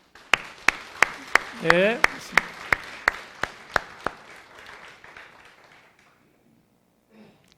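A church congregation claps in encouragement for a bereaved family at a Sunday service: about a dozen loud, evenly spaced claps over four seconds, with brief talk mixed in, fading to quiet.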